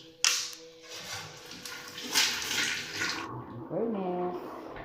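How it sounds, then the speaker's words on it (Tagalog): Strong running water gushes in a bathroom, a loud, hissing rush that stops abruptly, followed by someone speaking briefly. "Wow, malakas ang tubig nila."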